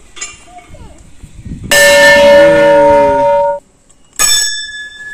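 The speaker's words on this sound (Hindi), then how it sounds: "घंटी बजाओ बाबू।" A temple bell is struck twice, the first ring sustaining brightly for nearly two seconds before cutting off and a second strike following, with a voice and faint chatter before the ringing.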